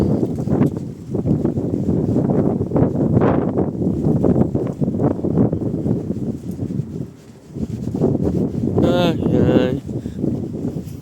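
Gusty wind buffets the microphone outdoors on a sunny day while exploring, a rough, rumbling roar that swells and fades, with people talking over much of it.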